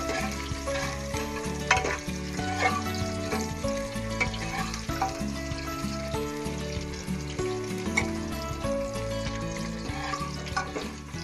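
Onions turning golden brown with a bay leaf in hot oil in a pan give a continuous moderate sizzle, with occasional stirring clinks and scrapes and steady, tonal music underneath.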